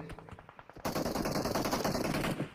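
Rapid automatic gunfire from MK and M4 weapons in the video game PUBG Mobile: a few scattered shots, then a dense, continuous burst of fire that runs to the end.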